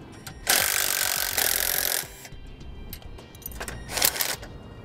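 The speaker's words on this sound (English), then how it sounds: "I'm using a 7/16 socket and wrench." A 7/16 socket and wrench removing an awning arm bolt on a 2007 Keystone Passport camper: two bursts of fast ratcheting clicks, one long and one shorter, with light metal taps and handling noises between, close and fairly quiet.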